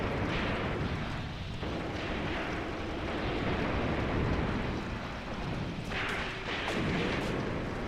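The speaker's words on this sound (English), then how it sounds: "you can see that we are under heavy fire too" Sustained heavy gunfire and artillery in the WWII tactical game Graviteam Tactics: Mius Front, a dense continuous rumble of distant shots and blasts with louder bursts near the start and toward the end, no voices.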